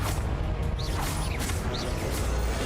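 Confringo blasting spell explosions in Hogwarts Legacy: dense, crackling bursts of noise with a few quick whooshing sweeps, loud and continuous for nearly three seconds.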